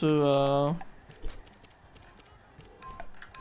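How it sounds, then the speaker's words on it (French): A horse creature from the video game Temtem gives a bright whinny-like cry, followed by faint game sounds. "Ah bah il y a le cheval. On va pouvoir essayer de capturer le cheval."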